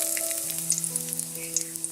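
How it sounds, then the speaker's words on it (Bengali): Cumin seeds and bay leaf fry in white oil in a kadai for a tempering, giving a bright, close sizzle with scattered small pops. A faint steady hum runs underneath, and no voices are heard. "ফোড়নের জন্য দিয়ে দিচ্ছি জিরে তেজপাতা"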